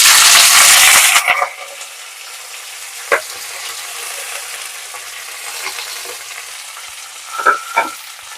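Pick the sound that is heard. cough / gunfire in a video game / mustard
mustard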